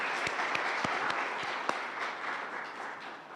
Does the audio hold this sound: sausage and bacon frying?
no